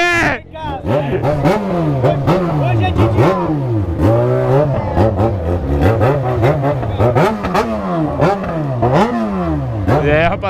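Engine of a Yamaha XJ6 motorcycle revs up and down repeatedly while riding, loud and close, with rising and falling whines and clatter, as voices talk over it.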